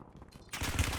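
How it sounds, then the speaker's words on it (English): Gunfire in Warzone, a burst of rapid shots that starts suddenly halfway through the second after a quieter stretch, sounding fairly close and loud. "Going towards the gunfire"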